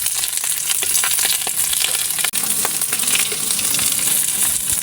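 Loud, continuous sizzling and crackling of daing, Filipino dried fish, frying in oil, with scattered sharp pops and a brief dip partway through.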